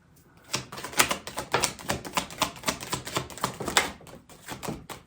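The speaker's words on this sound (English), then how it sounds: "starting with this deck, one more shuffle" A deck of cards is shuffled in a rapid, riffling series of crisp clicks and flutters that sounds close and steady for several seconds.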